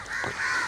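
A crow gives one short, hoarse caw at moderate distance, outdoors in a village farm area where male koels harass crows.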